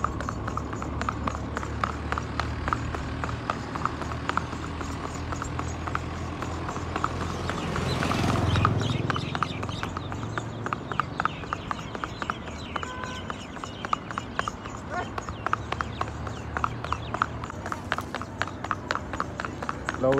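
A Nukra mare's hooves clip-clop in a brisk, steady rhythm on a hard village road, loud and close for the whole stretch, with a passing swell of noise midway and faint voices in the background.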